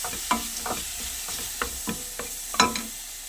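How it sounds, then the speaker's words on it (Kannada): Tomato masala for brinjal dal frying in a pan, a steady soft sizzle broken by a series of sharp scraping stirs of the spatula at an uneven rhythm, close by with no talking. "ಇದು ಸ್ವಲ್ಪ ಫ್ರೈ ಆಗಬೇಕು."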